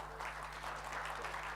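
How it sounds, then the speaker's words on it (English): Conference audience applauding presenters, a steady wash of light clapping under a constant low hum, fairly quiet and evenly sustained without a break. "give them applause, ya"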